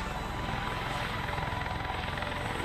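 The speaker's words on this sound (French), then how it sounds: "Il fait un bruit d'hélicoptère quand même, ce machin." Steady helicopter-like rotor thrum with a dense engine whine from a flying machine in the game Europa, continuous and fairly close, no voices.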